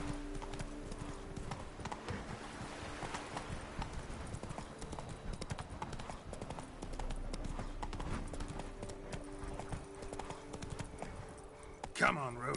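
Roach the horse trotting in The Witcher 3: Wild Hunt, a steady clip-clop of hooves running throughout under game music and a voice talking, with a brief sharp sound near the end.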